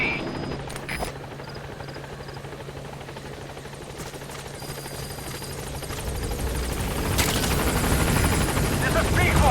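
The Pequod helicopter in Metal Gear Solid V thumps steadily as it arrives at the landing zone, its rotor drone swelling louder and nearer toward the end, with a short radio voice and a few sharp clicks along the way.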